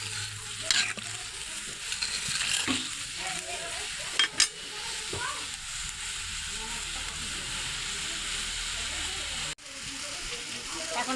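Melting sugar syrup for bundia being stirred in a pan, a soft continuous sizzle with scattered scrapes and taps of the spoon, fairly quiet and close.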